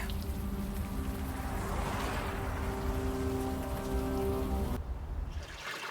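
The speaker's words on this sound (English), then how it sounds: "At least the rain is washing away most of the smell." Rain falls steadily in the video game Unavowed, a dense, even patter over a low hum of game music. It runs unbroken for most of the stretch, then cuts away near the end.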